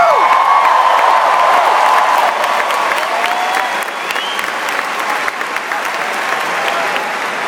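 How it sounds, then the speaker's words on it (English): A large crowd at a charity dance marathon gives loud, sustained applause with cheers and whoops rising over it, dense clapping that stays strong for several seconds. "Give yourself a round of applause."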